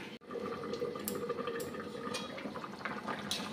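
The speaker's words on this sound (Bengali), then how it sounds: "দেখুন ফুটে উঠেছে" A pot of cauliflower, potato and egg curry boils on the stove with a steady close bubbling and simmering hiss, plus a few sharper pops and splashes over it.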